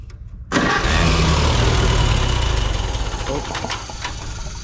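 An old tractor engine cast in 1947 cranks and catches suddenly, then settles into a loud, steady, rough idle up close, the roar fading slightly over a few seconds, with people talking under it.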